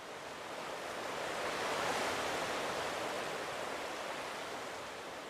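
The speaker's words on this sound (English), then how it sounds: "you can still like go into it and just listen to the sea and stuff" Sea waves wash steadily at a harbor port in the Tomodachi Life video game, a broad, continuous surf hiss that swells slightly midway and then eases, heard alone with no talking.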